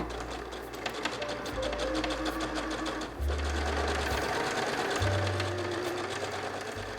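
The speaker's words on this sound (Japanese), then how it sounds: "もう一つの肩は普通に縫おう。" A sewing machine stitches the ordinary shoulder seam of a child's garment, running in steady bursts of rapid mechanical whirring with short pauses and speed changes between runs, close and alone with no voices.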